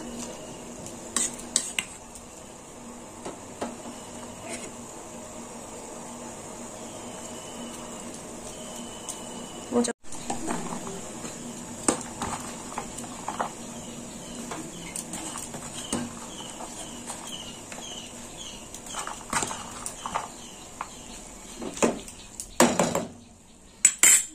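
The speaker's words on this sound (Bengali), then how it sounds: "জল ফুটে গেছে, দিয়ে দেবো মোচা" Chopped banana flower goes into a pot of boiling water amid clinking metal pot and utensil sounds, with scattered taps and scrapes and a soft bubbling bed throughout, growing busier toward the end.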